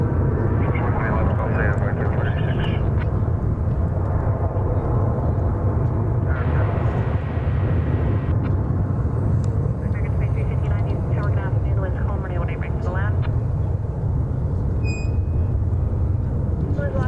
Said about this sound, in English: There goes American flight 999 to Albuquerque.